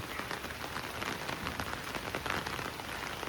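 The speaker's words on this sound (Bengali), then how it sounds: "বৃষ্টি শুরু হয়ে গেছে।" Steady monsoon rain patters on surfaces in a continuous, even hiss, heard fairly faintly with no one talking.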